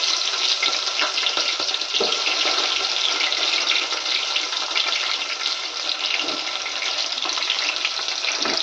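Onions and green chilies frying in oil with cumin for a meal maker curry, a loud, steady, close sizzle with occasional soft stirring knocks.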